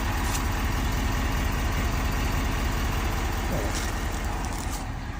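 A serviced snow plow truck's engine runs steadily and loud throughout, a continuous low rumble with no break while the vehicle creeps a short distance.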